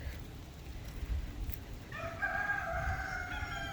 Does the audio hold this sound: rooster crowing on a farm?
yes